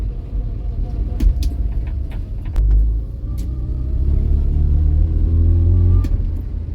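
Vauxhall Viva engine with a freshly leaned-off carburettor, loud low rumbling idle rising into a couple of revs, rough and close, with brief clanks.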